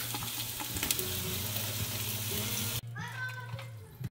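Vegetables hitting a hot pan for soup, a loud steady sizzle that cuts off abruptly partway through, followed by quieter room sound and a faint voice.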